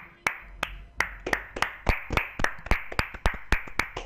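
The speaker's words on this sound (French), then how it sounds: "Applaudis Diablo, applaudis" A single person claps slowly and deliberately during a joking game session, about a dozen sharp, close hand claps at a steady rhythm with no talk over them.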